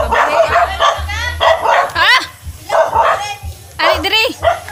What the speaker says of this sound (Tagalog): Merong aso.